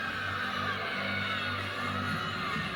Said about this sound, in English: Crowd already reacting